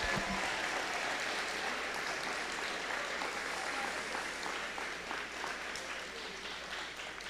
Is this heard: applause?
yes